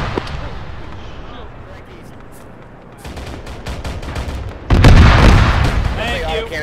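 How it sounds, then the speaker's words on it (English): Incoming cannon artillery fire in the Arma 3 military video game: a fading boom, a quieter stretch, then a heavy, rumbling blast that swells up near the end. "Cannon coming in from the east."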